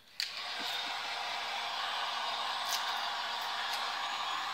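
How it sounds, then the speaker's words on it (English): Heat gun blowing onto a plastic-wrapped wooden prop hand, a faint steady airy whoosh that starts with a click and runs unbroken. "Let's heat gun this bad boy."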